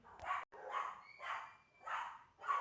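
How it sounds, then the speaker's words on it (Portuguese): Dogs bark in a steady series of five or six yelps at an even rhythm, moderately distant and fairly faint. "Meus cachorros latindo agora."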